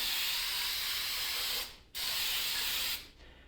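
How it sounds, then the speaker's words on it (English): Aerosol fogging oil sprays onto the bare surfaces of an iron engine block from a 5.7L Gen 3 Hemi V8 being torn down in a cold shop. Two long, steady hissing bursts, close and loud, with a brief gap between them. "I'm gonna hit any of these surfaces with a fogging oil."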